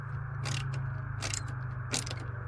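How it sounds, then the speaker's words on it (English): A ratcheting screwdriver clicks while undoing bolts on a Splendid washer, a few short metallic ratchet bursts over a steady low machine hum. "I'm using mine here, and I actually have a ratcheting screwdriver, which makes it a little easier"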